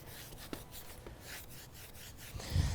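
Trowel rasping repeatedly across fresh concrete resurfacer while the edges are feathered thin on old concrete, a quick series of close scraping strokes that ends with a louder scuff.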